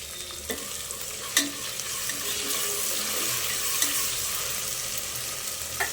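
Curry leaves and spices fry with a steady sizzle in a pan for chicken pulao, broken by a few sharp spoon scrapes and taps.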